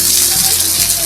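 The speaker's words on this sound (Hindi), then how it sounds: "शिवलिंग महाराज के ऊपर से पानी गिरता है और वो हमेशा गिरता रहता है" Water falling constantly over a Shiva lingam at a snowy shrine near Manali, heard as a loud, close, unbroken rush and splash that holds steady throughout.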